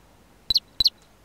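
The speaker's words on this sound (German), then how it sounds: "War der Vogel." Two short, bright bird chirps in the video game Deponia, spaced about a third of a second apart over a quiet background, each a quick high double note.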